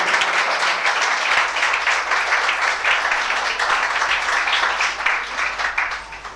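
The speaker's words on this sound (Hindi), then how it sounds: "तालियां बजाकर खुदाम के नाम को जलाल दें" A church congregation claps in praise during a worship message, a loud, full, continuous roll of many hands with a faint low hum underneath, running several seconds before tapering off at the end.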